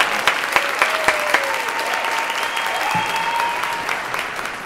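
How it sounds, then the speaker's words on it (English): Round of applause from a small audience at an event, a continuous patter of clapping with a few louder close claps and a voice briefly calling out over it. "Let's give a round of applause for you."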